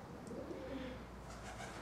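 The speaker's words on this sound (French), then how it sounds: "Un petit pigeon là-bas." A pigeon coos faintly in an abandoned, partly collapsed building in Portugal, a few soft low calls over a steady hollow room hum.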